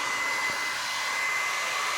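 A heat gun blasts hot air onto the adhesive under an iPad 3G's glass digitizer, a close, steady, unbroken whoosh with no talking.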